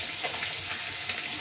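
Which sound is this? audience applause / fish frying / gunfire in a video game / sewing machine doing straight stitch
fish frying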